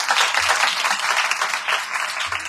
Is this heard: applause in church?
yes